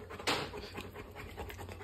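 A Rottweiler pants close by in quick, steady breaths, with a brief louder burst near the start and a low background hum.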